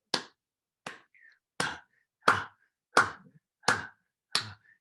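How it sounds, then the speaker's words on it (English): People clap in unison in a lecture hall, seven sharp, evenly spaced claps roughly two-thirds of a second apart, each separated by silence. "let's clap together"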